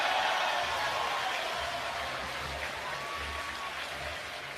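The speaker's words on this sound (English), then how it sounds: "Crowd making a lot of noise here at Wrigley Field" Roaring crowd at Wrigley Field during a Padres–Cubs baseball game, a dense, steady wash of cheering and applause that holds loud throughout, with faint voices mixed in.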